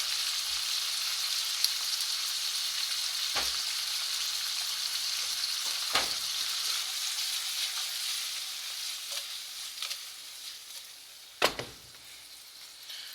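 A Costco oriental stir fry sizzles steadily in a hot pan as it is stirred with tongs, with a few sharp clacks of the tongs against the pan and no talk.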